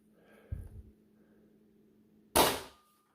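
A Thumper foam dart blaster loaded with short darts and Gen 3 Worker mod darts fires with two sharp, snappy pops, the second louder and followed by a brief trailing rattle, with near silence between.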